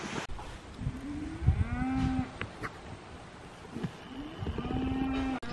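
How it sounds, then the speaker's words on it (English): Cattle lowing outdoors on Pentecost Island, Vanuatu, two long drawn-out moos several seconds apart, fairly close and clear over a soft breezy background, with no voices. "The cows are moving."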